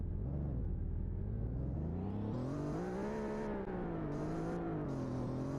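A Formula E race car on its out lap at the Diriyah ePrix, its electric motor whirring and rising and falling in pitch as it accelerates, heard loud and close throughout with no talk.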